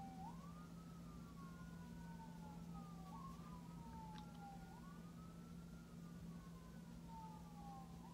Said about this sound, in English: ambulance, it would be super great if you could move on down the road while I'm filming